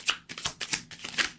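Tarot cards being shuffled by hand, a quick run of four or five close, crisp riffling bursts with no talking.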